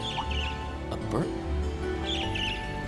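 Chirpy bird calls in the Trails of Cold Steel role-playing game, a strange bird tweeting in short high bursts over steady game music.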